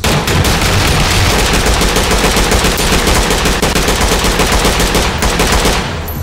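Loud, continuous automatic gunfire in the tactical shooter Ready or Not, rapid dense bursts close up that fade slightly at the end.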